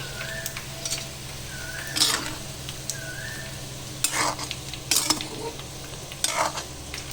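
A spoon stirs pumpkin curry seasoned with salt and Kashmiri chili powder in a pan, with a low sizzle under a few scraping strokes and light metallic clinks against the pot.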